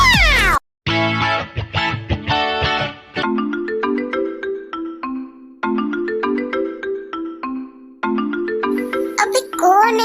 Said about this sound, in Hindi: अबे कौन है जो इतना फोन कर रहा है मुझे?